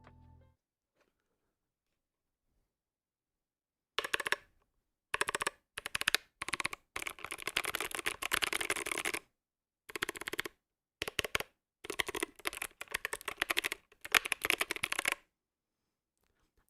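Fast typing on a mechanical numpad with Kailh Box White switches, Commodore 64 style, comes in loud, dense bursts of clicky keystrokes after a few seconds of near silence, with short pauses between bursts.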